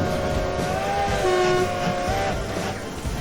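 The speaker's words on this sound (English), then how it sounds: "we have to wait for that train in front of us to go round the passing point here" A model train in the Rolling Line train set simulator game runs along its track with a steady rolling rumble and a drawn-out tonal horn-like whine over it, loud and continuous, with no talking.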